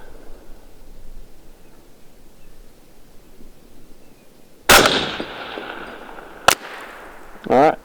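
A 5.56 rifle fires at a long-range target outdoors: one sharp, loud crack at mid-clip after quiet ambient noise, a second brief crack shortly after, then a short burst of noise at the end.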